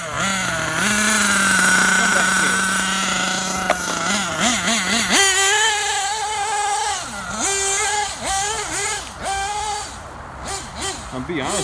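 A Losi 8ight RTR nitro buggy fitted with homemade parts, running on old nitro fuel, revs hard with a buzzing, wavering whine that climbs and quickly drops when the throttle is released, repeating several times at close range.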